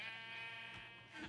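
A sheep bleats in the video game Minecraft, one short nasal wavering bleat heard close and clear, followed by a brief thump at the end.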